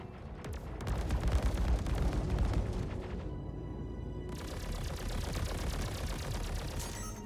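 Heavy gunfire and explosive booms pound against the player's spaceship in a space combat game against the Polaris, a continuous loud rumbling barrage with rapid impacts throughout.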